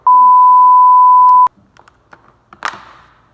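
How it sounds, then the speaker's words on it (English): A loud, steady electronic censor beep held for about a second and a half, followed by faint indistinct sounds. "Now I gotta beep out cussing."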